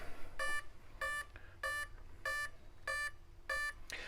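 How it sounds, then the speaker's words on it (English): An Arrma Kraton 8S RC car's speed controller sounds six evenly spaced electronic beeps, about two-thirds of a second apart, as it detects an 8-cell LiPo battery. The beeps are clear and close in a quiet workshop with no talking. "Those beepings is recognizing every cell, so it beeps 8 times, recognizing that there is an 8-cell LiPo hooked up to it."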